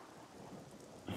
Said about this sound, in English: I do like the thunderstorm that's going on right now.